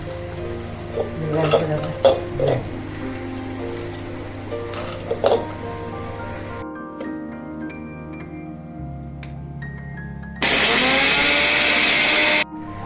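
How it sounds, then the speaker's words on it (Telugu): A blender grinds roasted puffed lotus seeds (makhana) in a home kitchen, starting as a steady loud whir that rises to a harsh high roar for a couple of seconds. Before it, someone talks over clattering and scraping. "దీంట్లో బ్లెండర్లో వేసుకుని బ్లెండ్"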